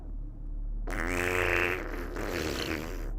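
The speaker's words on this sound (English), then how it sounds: "can you rip a wet fart into the mic?" A wet fart ripped close into a microphone, starting abruptly after a near-silent moment and sustaining a loud, sputtering rasp for over two seconds.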